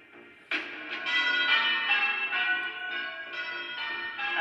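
Church bells peal loudly after a brief quiet start, with overlapping strikes ringing on continuously in a rich, sustained clangour.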